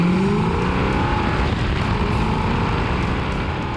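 Plymouth Cuda muscle car fitted with a very large cam, driving with a loud, steady engine rumble and road noise close by throughout, no talking.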